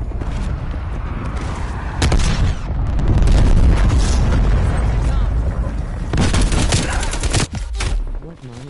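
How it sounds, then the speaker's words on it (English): Cruise missile strike in a first-person shooter: a heavy, sustained barrage of booming explosions rolls on for several seconds, with a sharp burst near the end and a voice talking over the din. "Enemy cruise missile launch detected."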